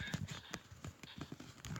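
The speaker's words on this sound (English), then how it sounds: "Okay, these horses are good. They're my protections." Horses in a survival craft video game clopping, a quick run of hollow hoof clicks in uneven rhythm, fairly faint and close, with no talk over them.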